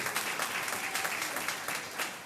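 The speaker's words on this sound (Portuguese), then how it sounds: "Continue aplaudindo ao Senhor" A church congregation applauding during a worship service, dense steady clapping from many hands throughout, moderately loud and fairly near, without any talk.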